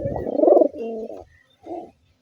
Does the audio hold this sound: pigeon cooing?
yes